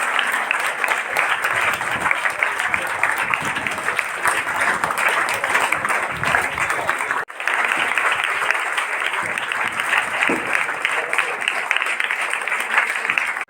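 Sustained, even applause from an audience at an honouring ceremony for a motivational speaker, dense clapping running continuously with one brief dip midway.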